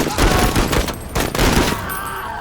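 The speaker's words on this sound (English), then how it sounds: "Impressive shooting, Marine." Rapid bursts of gunfire from the video game Menace, loud clattering volleys in two quick clusters that then taper into quieter reverberant tail.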